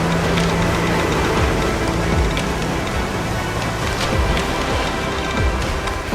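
Heavy rain pours down steadily at the start of the wet season on an outback road-train route, a dense, constant hiss with close droplet patter and no break.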